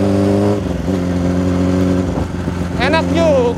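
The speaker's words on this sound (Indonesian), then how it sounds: "Nah sekarang kita test ride aja motor ini" A Honda CB400 modified into a bobber motorcycle runs on a test ride, its engine a loud, steady low drone with slight rev shifts, and a voice briefly speaks over it near the end.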